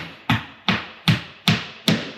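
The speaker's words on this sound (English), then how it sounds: "I'm gonna place my wall anchor here and just tap it lightly" A hammer taps a wall anchor into a wall during a shelving installation, five evenly spaced, sharp, close knocks about half a second apart.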